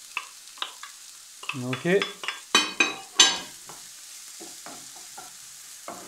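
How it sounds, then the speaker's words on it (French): Diced onion frying in three or four spoons of oil in a pan. Close, bright sizzling comes in bursts with scraping stirs, and a voice speaks briefly in the middle. "dans le poêle, on a mis 3 cuillères ou 4 cuillères à soupe d'huile. Et là, on vient mettre un oignon coupé en petits cubes"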